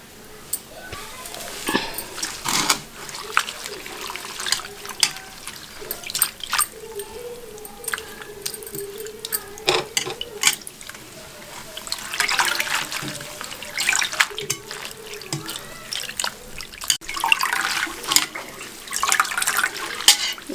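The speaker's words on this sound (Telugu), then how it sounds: "మంచిగా కడుగుతా వాటర్లో" Water splashes and sloshes as coriander leaves are rinsed by hand, with irregular clinks of a vessel and running water nearby, fairly close and steady throughout.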